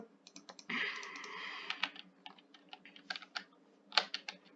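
Typing on a computer keyboard during a game, with quick irregular clicks and a short burst of rapid keystrokes. The sound is close and fairly quiet, with no talking.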